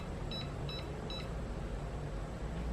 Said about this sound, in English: you'll push the P. It'll beep.